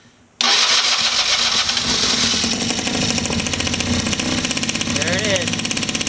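A 50cc scooter fitted with a 70cc big bore kit cranks and catches after a brief pause, then settles into a loud, buzzing idle with a rapid, slightly uneven pulse close by. Someone speaks briefly over the engine.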